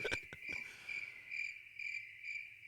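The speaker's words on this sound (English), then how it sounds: "Crickets." Crickets chirp in a steady high trill, with short bursts of repeated chirps pulsing over it, faint and continuous with no voices.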